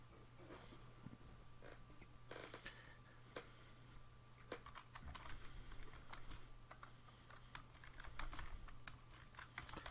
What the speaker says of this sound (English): Apologies if you hear me typing.